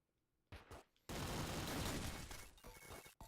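Gunfire in a Nintendo Switch game demo: a couple of short bursts, then a long, loud blast of rapid shots with shattering debris, trailing off into scattered cracks.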